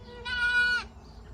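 A single goat on a small farm lets out a clear, fairly loud bleat lasting about half a second, heard alone over faint background noise.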